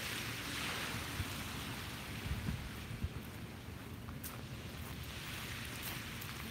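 Ocean waves washing onto a beach, a soft continuous wash of surf with gentle swells and breezy hiss, heard faintly from nearby with no talking.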